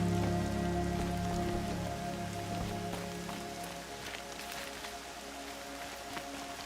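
Steady rain in the video game Horizon Zero Dawn patters on surfaces, a dense hiss of drops with a low rumble easing off partway through, no one speaking.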